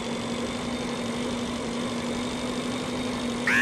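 A space bike idles in the survival game Breathedge, a steady, even engine hum held throughout at a constant level, with a brief rising tone just at the end and no talk.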